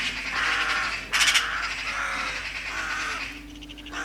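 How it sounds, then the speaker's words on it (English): Crows caw harshly on a farm as they settle near decoys, several throaty calls overlapping at middle distance against steady outdoor wind and background noise. "Finally the birds start to come down"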